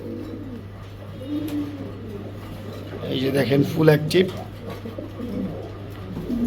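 A male white Spanish pouter pigeon coos in deep, rolling bursts, strongest in the middle, close by while someone talks over it.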